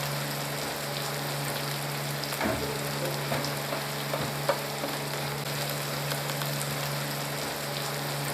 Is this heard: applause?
no